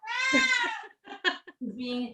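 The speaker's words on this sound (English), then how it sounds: "He's deaf, so he doesn't know how loud he is when he meows." Deaf cat meowing very loudly, a long drawn-out yowl followed by several shorter, broken meows, close to the microphone.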